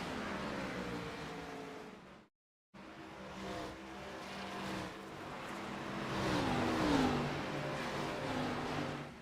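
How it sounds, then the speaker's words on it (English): Race cars circle Darlington in the iRacing game, a steady loud engine drone with rising and falling pitch as the cars lap and pass, cut by one brief dropout of silence. "listening to the cars rumble around this track"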